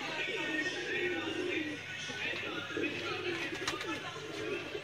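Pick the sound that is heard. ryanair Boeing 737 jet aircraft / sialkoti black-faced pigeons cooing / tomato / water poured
sialkoti black-faced pigeons cooing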